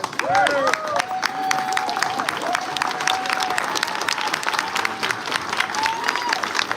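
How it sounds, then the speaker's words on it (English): A standing audience at a financial wellness symposium gives a fireside-chat guest a dense round of applause, steady and loud throughout, with whoops and cheers rising above it and voices mixed in. "let's stand up and give 19 Keys a round of applause"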